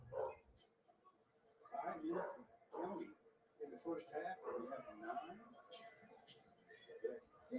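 A small dog barks in short bursts several times, mixed in with ongoing basketball play-by-play commentary and talk in the background.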